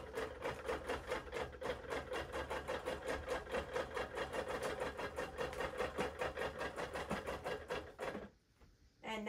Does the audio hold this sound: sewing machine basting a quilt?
yes